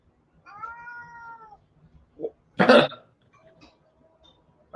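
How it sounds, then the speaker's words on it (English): A domestic cat gives one long, drawn-out meow up close, followed by a few short, softer chirps and a brief rustle in an otherwise quiet room. "Can you give us a big, long meow?"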